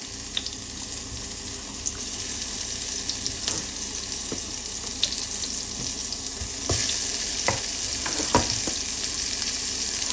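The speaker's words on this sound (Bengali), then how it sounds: "তেলটা গরম হয়ে আসছে, এখন আমি বেগুনগুলো দিই।" Eggplant pieces frying in hot oil for achari begun, a steady dense sizzle and crackle with occasional sharp pops and clinks of stirring, close and continuous with no talking.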